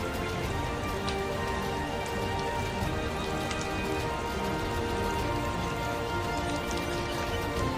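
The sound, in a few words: rain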